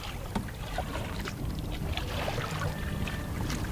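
Kayak paddling on open water along an exposed bay, with steady watery splashes and dips over a constant low rush of wind and water, fairly close and continuous throughout.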